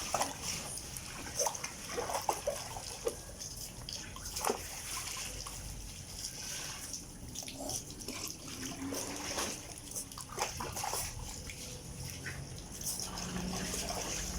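A small animal is bathed in a basin, with soft splashing, trickling and sloshing water throughout, quiet and close, and occasional faint background sounds.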